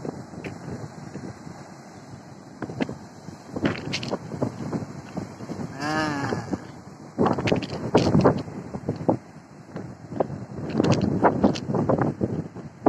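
High ocean waves surge and break at Jetis beach in Cilacap, with several loud broadband washes rising and falling over steady wind buffeting the microphone.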